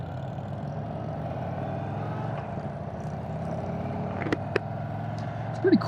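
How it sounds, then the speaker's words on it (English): A 2023 Indian Sport Chief 116 motorcycle with its stock exhaust gives off a steady, low, fairly quiet rumble that holds unchanged across the stretch, with a couple of brief faint clicks near the end. "It's more of like a thunderous rumble."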